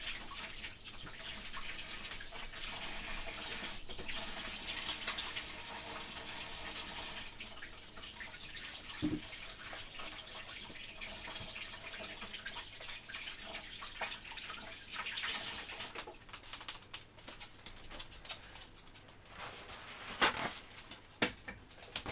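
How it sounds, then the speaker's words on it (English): Water from a kitchen tap runs steadily as hands are rinsed under it after mixing scone batter. The hiss is continuous and moderately loud, then breaks into softer, patchy splashes toward the end. "let me just wash my hands and I'll be back"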